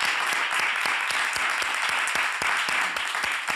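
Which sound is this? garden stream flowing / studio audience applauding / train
studio audience applauding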